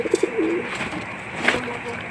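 A pet pigeon coos briefly up close in a few soft low notes, followed by quieter sounds of it being hand-fed.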